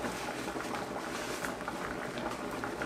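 Vegetable soup heating on a stovetop gives a steady, soft bubbling simmer with faint patter throughout, quiet and continuous with no talking.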